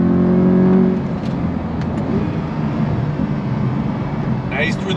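A 2023 Chevy C8 Corvette, a mid-engine car, driven through turns, with its engine droning steadily and brief rises in revs under someone talking.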